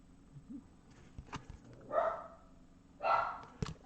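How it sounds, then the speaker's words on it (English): Dogs bark in short bursts a few times nearby, with playful yips and scuffling between barks and no talking. "I do apologize if you hear our dogs there."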